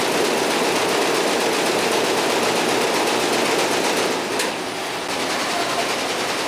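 An embroidery machine stitches a logo, a fast, steady, loud mechanical rattle of rapid needle strokes that runs continuously and dips briefly near the end, with no voices.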